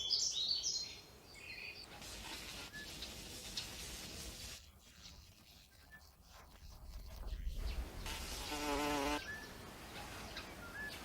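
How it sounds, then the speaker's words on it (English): A bumblebee buzzes in an outdoor insect habitat, its wingbeat hum rising and falling as it moves near and away among faint bird calls, growing louder and steadier toward the end. "It is a bumblebee."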